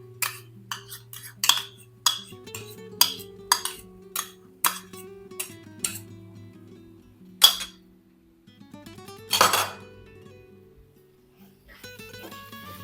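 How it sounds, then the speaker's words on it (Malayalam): Squid tossed with sauce in a bowl: a crisp spoon clinks against the bowl about twice a second, then pauses before one longer wet scrape, all over a quiet steady tonal hum. "ഇതെല്ലാം നല്ലതുപോലെ മിക്സ് ചെയ്തെടുക്കാം."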